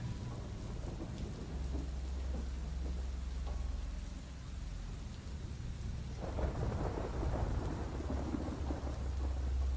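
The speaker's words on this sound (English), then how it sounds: "no sounds besides the rain and the clock" Steady rain and rolling thunder play as background ambience during a Curse of Strahd tabletop role-playing session, a continuous wash that swells louder toward the end, with no talking.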